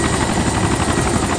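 A helicopter flies in the video game DayZ, its rotor and engine a loud, steady, close drone that fills the whole short stretch with no talking.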